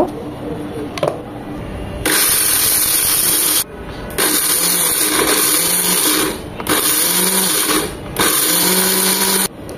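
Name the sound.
blender grinding shahi garam masala spices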